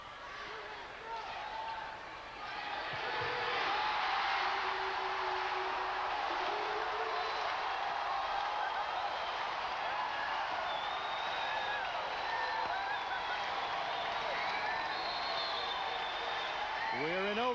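A packed arena crowd at a 1991 Stanford at Hawaii women's volleyball season finale swells into a sustained, roaring wash of cheers after a couple of seconds and stays loud. A commentator talks over it.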